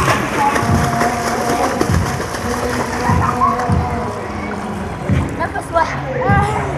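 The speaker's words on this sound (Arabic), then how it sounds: "يلا ادي اللي بيعوموا في الميه عاملين سباق وتحدي مع بعضيهم." Children swimming and racing each other in a pool, with continuous splashing and sloshing water. Lively voices call out over the loud, busy churn of the water.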